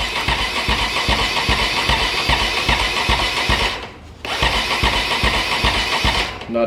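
A Megelli 250r motorcycle engine cranks on a cold start, making a loud, steady rhythmic chugging that runs for several seconds, dips briefly, then resumes.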